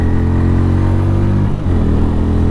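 Bajaj Pulsar N160 motorcycle carrying a pillion passenger, its engine droning steadily while riding with a strong low hum and even tone, a brief dip near the middle, close and loud with no voices.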